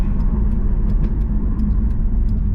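A Honda S2000 AP1 sports car's engine drones steadily while driving on a road, a continuous close low rumble with no talking.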